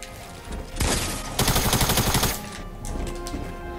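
Gunfire from the video game Fortnite, including shotgun use, arrives as a loud blast followed by a rapid burst of shots and a quieter trailing shot, close and with no talking.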